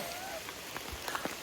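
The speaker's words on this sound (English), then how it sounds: "It's been raining on and off today" Steady rain patters down on a lush, muddy ridgeline hiking trail, a dense hiss broken by a few distinct drips and taps close by.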